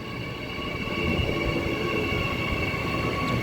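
Transperth EMU electric suburban train passing through a station, a steady loud rumble of wheels and rail with sustained high whining tones from the motors, continuous throughout with no talking.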